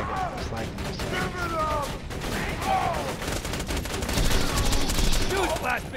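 Turrets fire in Borderlands 2 with rapid, dense bursts of gunfire close up, layered with game effects and chaotic battle noise. A voice speaks over parts of the shooting.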